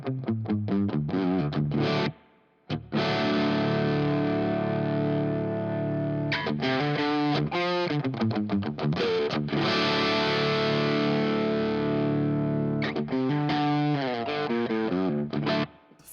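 A continuous, thick overdriven electric guitar through an Analogman King of Tone overdrive pedal, chords ringing and sustaining with a couple of brief pauses, loud and upfront with no talking.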